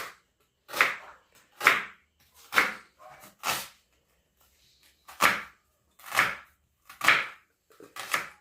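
Coconut and onion chopped with a knife on a board in a home kitchen, about nine sharp, evenly spaced thuds with short gaps between them, close and clear with no talking.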